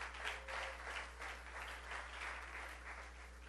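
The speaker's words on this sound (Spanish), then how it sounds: "Dele fuerte ese aplauso a Cristo." Church congregation clapping during a worship service, a soft, distant wash of applause over a steady low hum, moderately even without clear peaks.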